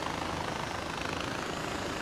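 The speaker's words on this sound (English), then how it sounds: "I'd appreciate if these choppers weren't held together by duct tape" A helicopter in the video game Far Cry 4 flies with a steady, dense rotor and engine roar that stays loud and constant throughout, with no talking over it.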